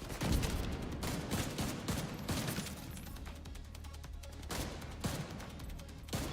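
Automatic-weapon fire in The Division 2 video game: rapid bursts of shots crackle in clusters, fairly quiet overall, with a sharper volley at the start and scattered repeats after.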